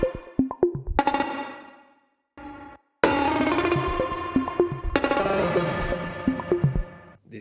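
Electronic track built only from Moog DFAM drum synth samples, with an LFO modulating an OTT compressor: punchy percussive hits give way to a dense, pulsing wash after a brief dropout, loud and without voices.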